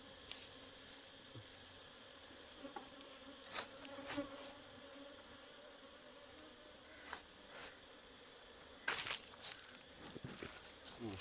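Wild cavity-nesting honey bees buzz steadily around their nest, a close, continuous insect drone broken by a few louder brushing and patting noises.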